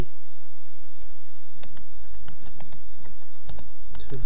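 Keys being typed on a computer keyboard while searching for Windows 7 virtual machine software, a quick run of sharp, close clicks and taps with a low hum beneath.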